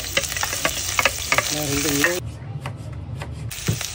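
Garlic sizzling as it sautés in a hot pan, steady loud frying hiss with stirring scrapes and clinks of a utensil against the pan, close up.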